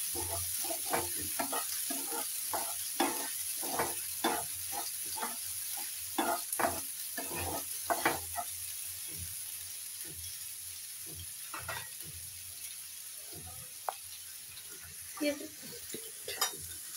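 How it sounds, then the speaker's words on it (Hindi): Onions and garlic frying in a pan at home, with repeated scraping stir strokes over a steady low sizzle, fairly close and moderate in level, with no talking. "पहले लहसुन को भूने उसके बाद आप यहाँ पर प्याज ऐड करें"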